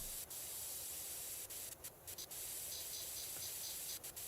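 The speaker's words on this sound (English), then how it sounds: "Need like the wide spray, given how close we are." Wide-spray pressure washer nozzle in the PowerWash Simulator video game, cleaning a filthy playground slide and floor up close: a steady, faint hissing spray runs throughout with a few brief interruptions, no talking.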